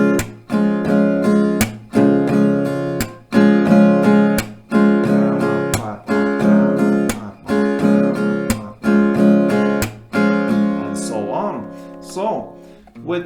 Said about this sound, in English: Alright, so a couple rounds of the strumming will sound like this.